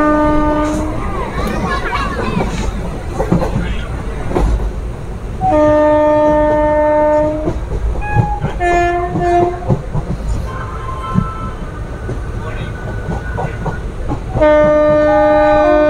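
Azimganj–Krishnanagar City passenger train running between stations, its loud horn blaring in several long, steady blasts over the continuous rumble and rattle of the carriages, close by.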